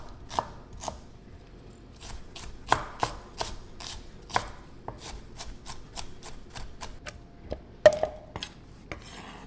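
Freshly pulled garden onions diced with a knife on a board, a series of crisp, irregular chops, some rapid and some spaced apart, fairly close and clear with no talking.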